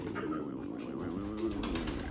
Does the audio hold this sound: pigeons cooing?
yes